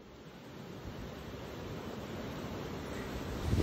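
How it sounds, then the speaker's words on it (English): Harsh wind gusts across cold open water near a waterfall on a Peak District farm, a loud broadband roar that steadily builds and buffets the microphone, with no voices. "The wind was brutal"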